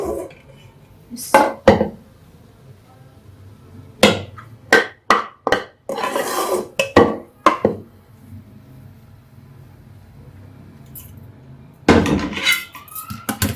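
Besan halwa scooped and scraped out of a cooking pan into a bowl, heard as scattered sharp metallic clinks and scrapes, a quick pair, then a dense cluster of knocks, with a further burst of scraping near the end and quiet pauses between.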